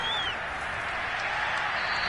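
A stadium crowd in the Madden 22 football video game gives a steady, dense wash of applause and cheering that holds at an even level throughout.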